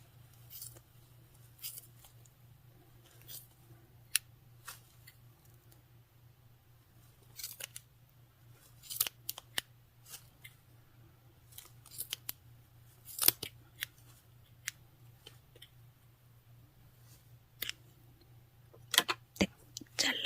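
Scissors snip while a large crochet bag is being made, with single sharp cuts scattered across a quiet stretch over a low steady hum. Some cuts come in close pairs.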